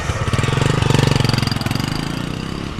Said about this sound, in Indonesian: Tiba-tiba aku mendengar ada suara motor dengan knalpot yang sangat bising.